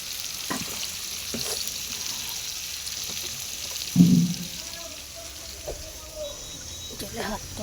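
Soft, steady sizzle of onion frying in a pan with salt added, with faint stirring scrapes and an occasional louder clack, under quiet background noise.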